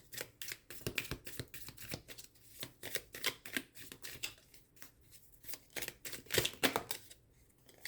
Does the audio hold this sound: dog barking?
no